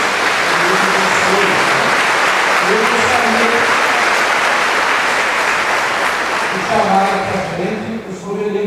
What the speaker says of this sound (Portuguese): Uma salva de palmas para todos.